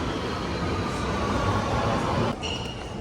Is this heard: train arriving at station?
yes